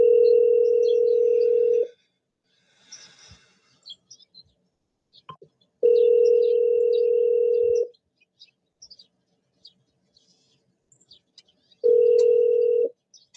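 A telephone dial tone comes through in three steady two-second bursts spaced about four seconds apart, with faint scattered clicks and chirps in the quiet gaps, heard on a line being checked.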